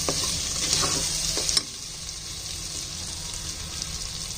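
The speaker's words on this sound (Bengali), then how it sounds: "আমি চালটা একটু ভাজবো এই মশলার ভিতরেই" Rice being fried in spice masala in a pan for prawn pulao, a loud crackling sizzle with stirring scrapes that drops abruptly to a quieter, steady fry partway through, no talking.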